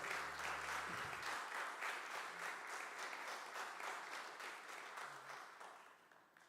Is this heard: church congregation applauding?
yes